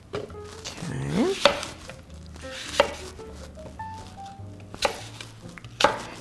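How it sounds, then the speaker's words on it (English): A kitchen knife chops a Granny Smith apple into chunks on a cutting board, with a handful of distinct, spaced cutting knocks and some light handling noise between them. "Let's go with some Granny Smith apple for a little bit of sweetness. Just gonna cut into chunks"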